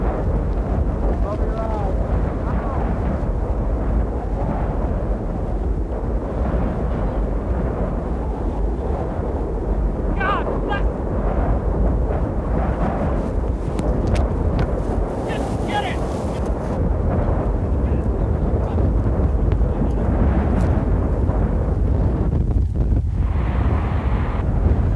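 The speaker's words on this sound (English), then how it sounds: "Winds gusting up to 70 miles an hour slam dirt and sand into everything." Strong wind gusts during a tornado chase roar and buffet the microphone continuously, a loud, rumbling, turbulent rush laden with blowing dirt and sand, with a few faint other noises and speech at times.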